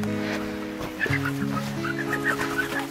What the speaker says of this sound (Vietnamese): Gà.